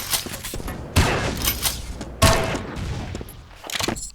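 Two loud, sharp railgun blasts from the Doombringer video game crack out about a second apart, each leaving a brief decaying tail, followed by softer game noise.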